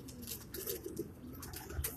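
A female racing pigeon coos softly, a low, steady rolling murmur under faint background noise, with no one talking.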